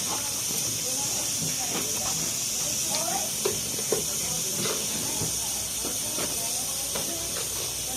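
Water poured into a hot cooking pan with chili and turmeric sets off a steady loud sizzling hiss that runs the whole time, with faint clinks and a voice speaking quietly underneath.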